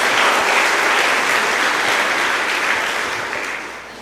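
A church congregation claps in praise, giving Jesus a round of applause: steady, dense clapping close to the microphone that slowly fades toward the end.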